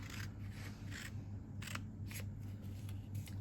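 Scissors snip through a cardstock treat-box kit along a score line in a run of repeated short cuts, close and quiet, over a low steady hum.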